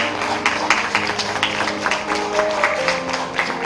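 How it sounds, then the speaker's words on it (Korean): Wedding guests applaud in a hall, a steady dense patter of clapping with a few sharper claps standing out, continuing at an even level throughout. "여러분 다시 한번 큰 박수 부탁드리겠습니다"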